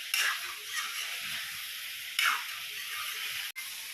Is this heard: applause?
no